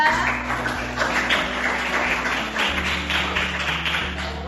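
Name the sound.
children applauding group 3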